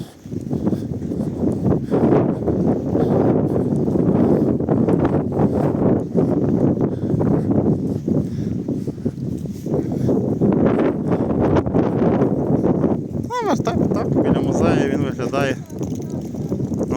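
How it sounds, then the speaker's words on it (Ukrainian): Loud, continuous wind roaring against the microphone, rumbling and gusting for the whole stretch with a brief whistling burst near the end. "Вітер потужний."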